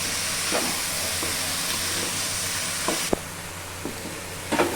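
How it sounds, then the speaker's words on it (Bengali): Jackfruit pieces go into hot spices in a pan, a constant close sizzle and hiss with scattered knocks and clatters of pieces and a spoon, no talking. "দেখো আমি সবজিটা মানে কাটালের সবজিগুলো ডেলে নিচ্ছি"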